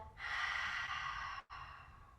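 A child's long, steady exhale through the mouth during a kids' yoga breathing exercise, one soft airy breath lasting over a second, close and alone, followed by a brief catch and a quieter trailing breath.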